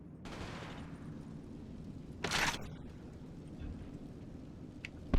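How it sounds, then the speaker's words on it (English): Gunfire in a shooter video game, a short burst of shots near the start and a louder crack in the middle, heard against a steady background hum with no talk. "How many bullets do I gotta put in these people to kill them?"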